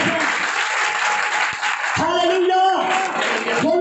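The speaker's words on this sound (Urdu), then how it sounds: "آئیے اس کے لیے تالیاں بجائیں." Sustained applause from a church congregation fills the space, a dense steady clatter of many hands with a voice speaking over it.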